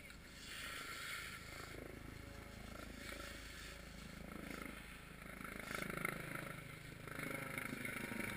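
A motor exhaust during a patrol on the Brenta river, a steady low rumbling drone that keeps going throughout at moderate distance, with a faint voice under it.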